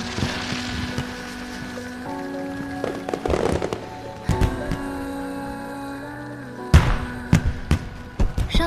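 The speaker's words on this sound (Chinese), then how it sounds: "快看烟花！" Fireworks burst in several sharp, loud explosions scattered through a film scene, heard over sustained background music with crackling between the booms.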